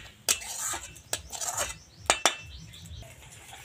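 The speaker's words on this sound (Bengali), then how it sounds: "এটা আবার খুব ভালো করে মেশানো লাগবে দুধের সাথে" A metal spoon clinks against the sides of a pot as a mixture is stirred into milk for Bengali mishti doi. Several sharp taps come in an uneven rhythm, with soft swishing between them, close and fairly quiet.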